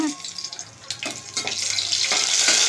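Garlic goes into hot tempering oil that already holds mustard seeds, and the frying builds from scattered crackles into a dense, rising sizzle close by.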